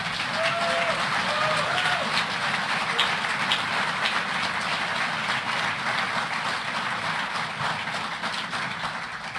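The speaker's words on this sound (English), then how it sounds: "Can we hear a very loud round of applause for those two gentlemen?" A conference audience applauds Senator Jim Inhofe and Congressman Lamar Smith, a dense and steady round of clapping that fills the hall for several seconds, with a faint murmur of voices early on.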